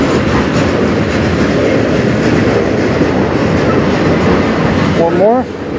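A CN M385 manifest freight train led by two locomotives, CN 5765 and CN 2557, rolls past loud and close on the Strathroy Subdivision, a continuous heavy rumble and rattle of railcars that ends with brief squealing wheels.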